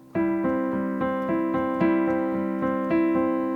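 A piano plays a repeating broken-chord pattern, notes rolling evenly one after another at a moderate pace, clear and close.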